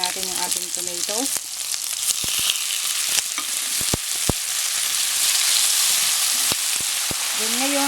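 Chopped tomatoes and onion sauté in a hot pan for a Filipino cabbage dish, a bright continuous sizzle broken by sharp scrapes and taps of a utensil against the pan, with a few faint background voices.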